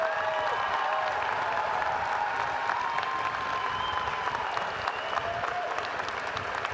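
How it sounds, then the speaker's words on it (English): Crowd applause for graduate students at a winter university commencement ceremony, steady sustained clapping heard from some distance throughout, with no talk over it. "Let's give our graduate students a round of applause"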